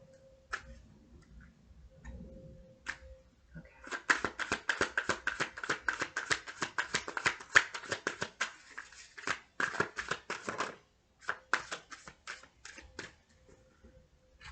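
Tarot cards are shuffled by hand in a long run of rapid, crisp riffling taps, close and fairly loud, with brief pauses between bursts and no talking over them.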